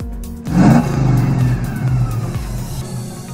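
Startup sound of a supercar speedometer app on a Digipad in a Honda car, a loud engine rev that swells and settles into a throaty idle, close and without talk.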